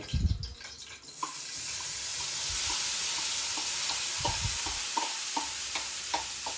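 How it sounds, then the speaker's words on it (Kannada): Paneer hits hot ghee in a pan and fries with a continuous close sizzle, with scraping stirs and spoon taps on the pan rising above the hiss. "ತುಪ್ಪ ಹಾಕೊಂಡು ಮಿಕ್ಸ್ ಮಾಡಿರೋ ಪನ್ನೀರ್ನ ಅದಕ್ಕೆ ಆ್ಯಡ್ ಮಾಡ್ತಾ ಇದ್ದೀವಿ"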